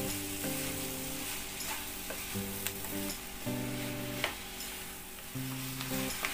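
Fenugreek leaves being mixed and stirred into potatoes in a pan on a gas stove produce a constant sizzle, broken by scraping stirs and a few sharp clicks, against steady tonal humming in the background.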